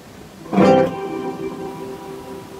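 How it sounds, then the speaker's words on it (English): A single deep plucked bass guitar note rings out through a plate reverb and fades slowly into a long, smooth reverberant tail, played alone. "And for this song I would use the plate reverb."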